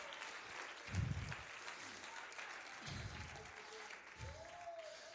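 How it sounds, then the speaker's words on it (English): A church congregation claps along during Sunday worship, soft background clapping with a few louder thumps, and a voice speaks over it. "Come on, let's clap our hands to the Lord."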